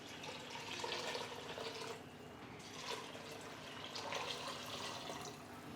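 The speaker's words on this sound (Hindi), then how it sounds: "पानी डाल देंगे।" Water poured into a pressure cooker with soaked lentils and oil: a continuous, faint splashing pour that swells and ebbs over several seconds, with no talk.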